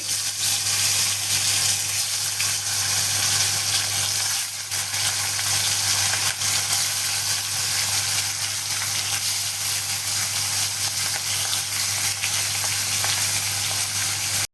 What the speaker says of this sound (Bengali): তেলটা গরম হয়ে গেছে, মাছটা ভেজে নেব।